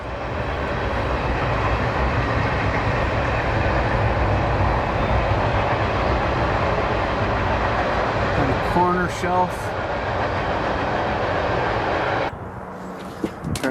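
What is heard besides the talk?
train passing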